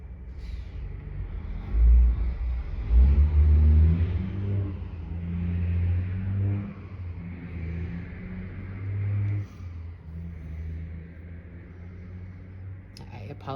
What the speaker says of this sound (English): I apologize for the very loud truck that just went by.